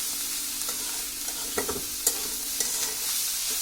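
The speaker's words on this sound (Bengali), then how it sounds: "লবণ দিয়ে এটাকে তেলের মধ্যে ভাজা হয়।" Potatoes and spinach sizzle steadily in hot oil for palong shak, a continuous bright frying hiss broken by a few clicks and scrapes of stirring.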